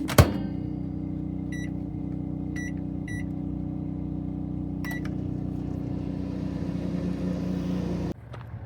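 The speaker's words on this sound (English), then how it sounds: "So I'm going to heat these up in the microwave." A steady microwave oven hum runs throughout, with a thunk at the start, several short beeps, and a clunk as it stops near the end.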